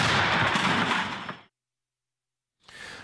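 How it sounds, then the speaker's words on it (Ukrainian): An artillery gun fires a single loud shot with a broad blast that decays over about a second, followed by silence and then faint noise returning. "Постріл!"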